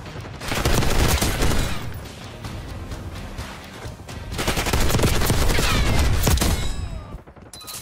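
Rapid bursts of automatic gunfire in a Call of Duty: Black Ops 6 match, loud and sustained in two long volleys with explosive crashes, broken by a brief lull.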